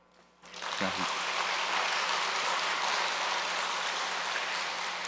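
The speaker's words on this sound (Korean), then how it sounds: "인사하실 때 격려의 박수를 부탁드리도록 하겠습니다" Congregation in a Sunday church service breaking into sustained, dense applause after a quiet start, the clapping rising quickly and holding steady like heavy rain across the room, with a few voice fragments near the onset.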